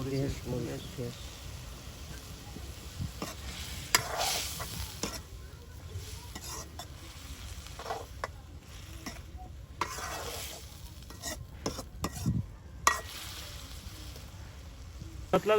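Chilies sautéing and being stirred in a pan for a village-style river shrimp (icha fish) curry, with steady sizzling broken by scraping stirs and occasional louder clatters, under intermittent talk.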